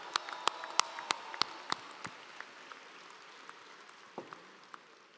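Sparse, scattered applause for a senator at a university commencement ceremony, a handful of distinct claps at first that thin out and fade within a few seconds, fairly quiet in a large hall.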